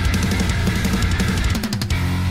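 A processed heavy metal mix with saturation applied: thick, bright distorted guitars and driving drums, loud and continuous for about two seconds with no talking.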